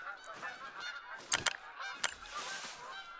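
Geese honking in theHunter: Call of the Wild hunting game, a few scattered nasal calls at middle distance over a quiet outdoor ambience, with a couple of sharper louder honks near the middle.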